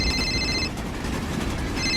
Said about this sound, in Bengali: পকেটে ফোনটা বাজছে বটে